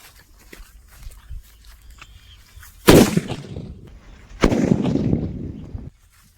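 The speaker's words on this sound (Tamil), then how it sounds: "வெடி ஒன்றும் அந்த அளவுக்கு பெருசா இல்லைங்க, சுமாராக தான் வெடிச்சுது." A Kannan snake-type firecracker from Sivakasi bursts in two loud, sharp cracks a second or so apart, the second trailing into a longer hissing crackle, after quiet outdoor background with faint rustles.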